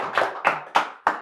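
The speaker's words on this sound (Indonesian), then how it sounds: "Tepuk tangan dong buat saya." Four sharp, evenly spaced claps ring out at a stand-up comedy show, each crisp and close with a short decay and quiet between them.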